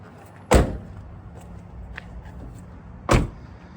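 Two solid door slams on a 2000 Daihatsu Naked kei car, one early and one near the end, each a sharp, loud thud, with quiet ambient noise between them.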